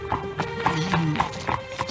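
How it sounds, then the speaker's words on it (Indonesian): Horses trot with a steady clip-clop of hooves as a horse-drawn cart rolls along, close and fairly loud, with creaking and rumbling underneath. "Gerobak kereta kuda Nyai Kolot terus melaju mengikuti Anting Wulan yang berkuda di sampingnya"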